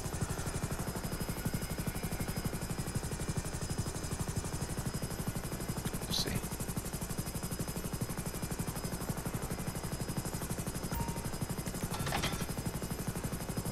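Steady, loud rotor chop of an FH-1 Hunter attack helicopter in the game GTA V, a fast rhythmic thumping that runs throughout with two brief higher whooshes around the middle and near the end; no talking.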